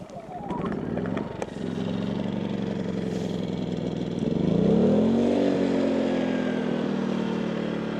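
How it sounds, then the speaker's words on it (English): A portable generator's engine catches after a recoil pull and settles into a steady mid-pitched running drone, rising slightly in intensity partway through, close by and continuous. "Pull recoil to start engine"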